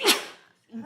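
A single sharp sneeze bursts out at a city council workshop, followed by a brief pause before a voice resumes.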